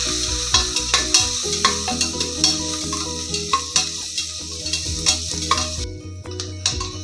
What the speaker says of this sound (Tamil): நறுக்கி வச்சுருக்கிற வெங்காயத்தை போட்டு அது கொஞ்சம் வதங்க